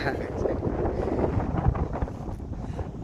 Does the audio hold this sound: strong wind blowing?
yes